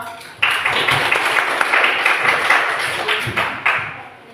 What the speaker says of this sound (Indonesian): kasih aplaus dulu buat kita semua